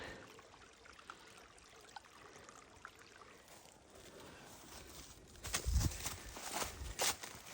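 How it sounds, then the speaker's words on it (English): A hiker crosses a forest stream on the Black Forest Trail, with soft water trickling throughout and then louder sloshing footsteps and splashes close by near the end. "This is one of the less good streams I've crossed"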